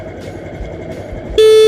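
Engine hum from a nearby motorcycle, then a loud, steady horn blast starts suddenly near the end and holds.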